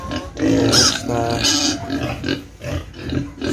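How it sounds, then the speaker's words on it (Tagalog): Seven-week-old pigs in a pen grunt and squeal loudly and continuously, with several overlapping calls close by. "Ito yung ating mga baboy. 1 month and 3 weeks."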